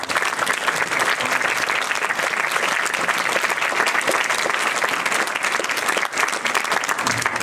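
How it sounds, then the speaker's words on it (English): Sustained, loud round of applause from an awards-ceremony audience at a quiz team awards event, dense steady clapping filling the whole stretch with a brief dip near the end. "I would love to see a round of applause"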